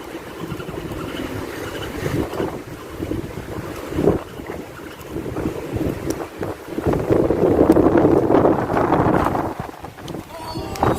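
Blustery wind buffets the microphone while fishing from Penang bridge, a steady rushing roar with gusts swelling louder toward the end, over a low hum, and people talk faintly underneath.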